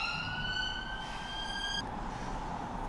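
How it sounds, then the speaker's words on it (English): An emergency vehicle siren wails in a London street, a steady rising-and-falling tone heard at a moderate distance over constant traffic rumble, fading out partway through. "oh, fucking sirens"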